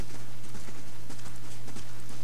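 A character walks in Pillars of Eternity: a brisk, evenly paced run of close footstep clops over a steady low drone, no speech present.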